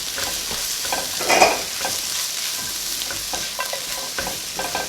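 Jasmine rice poured into a hot pot with oil and stirred, a close, steady sizzle with scraping spoon strokes and a brief louder clatter as the grains go in.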